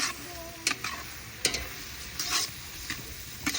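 A spoon stirs goat papaitan in a pot, giving soft, scattered clinks and scrapes against a faint simmering hiss, with no talk.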